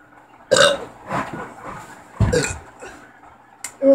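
Burps after drinking soda, two loud close belches with softer rumbling tails and a third beginning at the end, with no talk between them.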